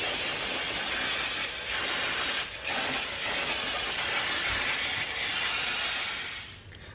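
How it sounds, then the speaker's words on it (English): Brake cleaner hisses in long aerosol bursts onto Porsche 911 brake calipers, a close, steady spray with a few brief pauses between blasts. "So now I'm just gonna brake clean everything really good to make sure all the brake dust is off everything."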